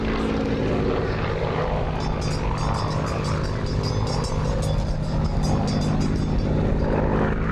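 A Hawker Hurricane of the Battle of Britain Memorial Flight passes overhead at an RAF Church Fenton air display, its propeller engine a loud, sustained roar that holds steady throughout.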